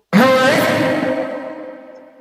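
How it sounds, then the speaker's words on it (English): A single distorted vocal sample hits loudly, then a long reverb tail slowly decays away over a couple of seconds. "it was a normal sample then I distorted it and added reverb with lots of decay"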